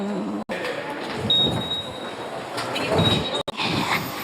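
A Seoul subway train at Hangangjin station rumbles loudly nearby, with wheel squeal and steady rolling noise, broken by two brief dropouts.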